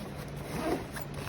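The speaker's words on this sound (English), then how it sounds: "Let me find the zipper." Zipper on a cloth case for colored pencils being pulled open, a steady close rasp running throughout.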